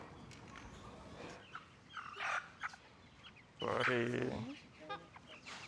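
A chicken clucking near a poultry slaughterhouse, a short burst of throaty clucks midway amid quiet background, with a person speaking briefly.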